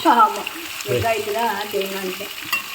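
Onion and coconut sautéing in oil in a pan for spicy onion chutney: a short bout of sizzling and frying with stirring scrapes, under a voice talking close by.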